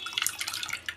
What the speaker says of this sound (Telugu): ఇప్పుడు కొంచెం చల్ల నీళ్ళు వేసేసి